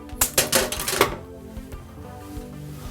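Plastic water tubing for an ionizer pre-filter is cut, giving a short cluster of sharp, close clicks and snips in the first second, followed by faint quiet handling.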